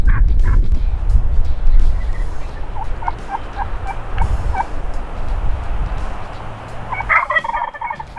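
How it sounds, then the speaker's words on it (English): A wild turkey gobbling in the distance during a South Dakota hunt at Pine Ridge, a quick rattling burst of calls outdoors over low rumbling background noise. "we hear a turkey gobble off to our right"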